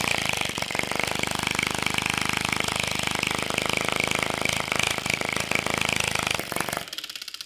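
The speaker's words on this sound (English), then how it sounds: "So the engine is running pretty well," A homemade magnetic air engine runs steadily with a loud, dense mechanical buzz and rapid chatter like a small motor, continuous for several seconds before suddenly dropping off near the end.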